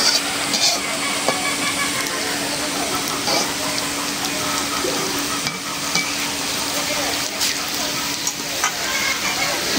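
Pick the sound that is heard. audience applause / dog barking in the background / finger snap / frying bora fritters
frying bora fritters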